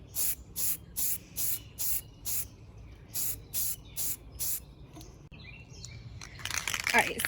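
A spray can lays a second coat of yellow paint on a stainless steel tumbler in a series of short, evenly spaced hissing bursts, followed by a quiet gap and then a longer rustling, crinkling spray sound up close.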